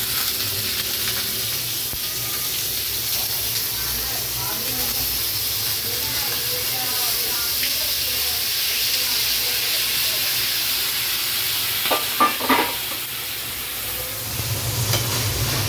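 Chilli, curry leaves and boiled green peas fry in a pan for matar kabab, giving a steady close sizzle and hiss throughout, with a few brief clinks of stirring near the end.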